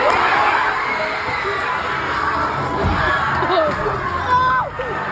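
Packed cinema audience at a Minecraft movie screening shouting and cheering loudly, a dense, continuous roar of young voices with individual yells rising above the crowd throughout.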